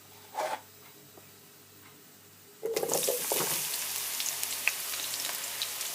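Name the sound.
brinjal frying in hot oil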